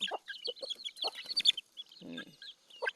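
Domestic backyard chickens cluck in a close, busy series of short calls, with a lower throaty burst near the middle and no one talking.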